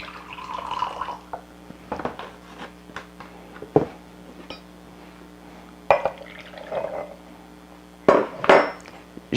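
Vinegar, half a cup, poured into a glass jar of marinated carrots: soft liquid trickles and drips with several sharp glassy clinks and knocks spaced across the stretch, close and fairly quiet.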